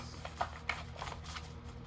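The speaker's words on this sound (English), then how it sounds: "Shuffling for the collective." Tarot cards shuffled by hand, soft quiet riffling slaps and rustles in a few short bursts, close and faint, with no voices.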